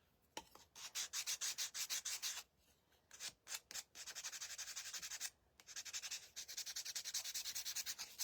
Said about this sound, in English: we will take our sanding block and just kind of give them a little extra